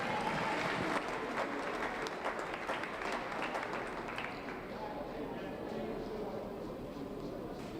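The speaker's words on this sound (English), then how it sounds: "Let's give them a big round of applause." Spectators at a youth fair market hog show applaud with dense clapping that is strongest in the first few seconds, then thins into a quieter murmur of crowd noise in the arena.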